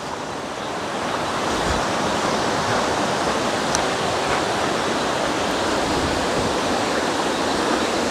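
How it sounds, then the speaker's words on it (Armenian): A swollen river rushes past at close range, a loud constant roaring wash that swells in after the first second and holds steady, with no voices. "Գետը օր-օրի ավելի շատանում է։"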